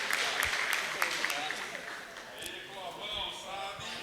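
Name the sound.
audience applauding the couple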